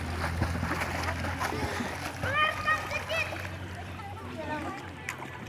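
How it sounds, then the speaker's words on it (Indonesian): A child splashes while learning to swim in a public bath at Air Seruk, with steady water sloshing and splatter under nearby children's and adults' voices. "Belajar berenang, Dek."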